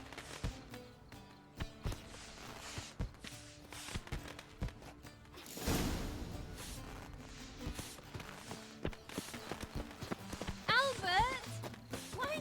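Horse hooves clip-clop in The Witcher 3: Wild Hunt, a scattered run of taps heard under steady talk and game sound.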